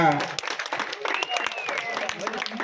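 An audience claps during a prize giving at a 2024 rangoli competition in Katarki, with a voice speaking over the scattered applause.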